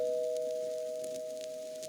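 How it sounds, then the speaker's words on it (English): A doorbell rings with a single sustained electronic tone that fades slowly over two seconds, quiet and clear with no voices. "Now let me ring the doorbell."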